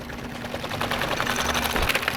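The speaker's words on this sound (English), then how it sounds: "On the bright side, our earthquake machine's still working." A homemade earthquake shaking machine, built to test LEGO houses, runs with a steady, dense rattling clatter and a low mechanical hum, loud and continuous throughout.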